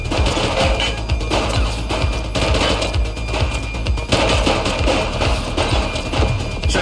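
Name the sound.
gunfire from a suspect in the video game The Precinct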